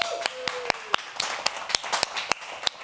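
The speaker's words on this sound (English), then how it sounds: "Please, round of applause for the musicians" A handful of people at a dementia conference clap for the musicians, sparse and distinct individual claps in an irregular rhythm, close and moderately loud, with a brief tone at the start.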